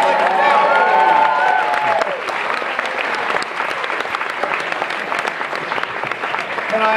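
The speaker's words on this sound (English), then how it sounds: "Give them a round of applause." Studio audience applauds as team captains come down to the stage, a sustained crowd clapping with a few cheers, while a voice talks over the start before the clapping carries on alone.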